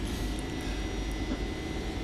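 Airliner jet engines in the X-Plane flight simulator roaring steadily with a broad, sustained rumble and hiss as thrust builds for takeoff, with no voices.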